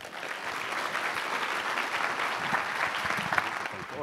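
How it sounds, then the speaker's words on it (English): An audience at a charity science lecture applauds steadily to welcome a professor to the stage, a dense, sustained round of clapping filling the hall with a few louder claps near the end. "a big round of applause to the professor."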